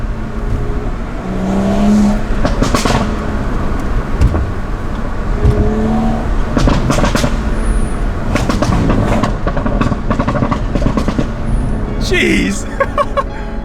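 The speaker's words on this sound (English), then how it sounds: "want to say a massive thank you to Hugh for letting me drive his BMW E82 135i" A BMW E82 135i with full bolt-ons, rated at 370 hp, drives fast, its engine droning loudly and steadily from inside the cabin, rising in pitch at times, with a few sharp clicks and knocks.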